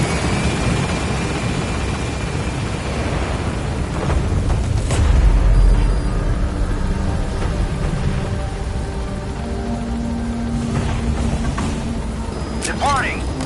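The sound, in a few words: helicopter departing in Metal Gear Solid V video game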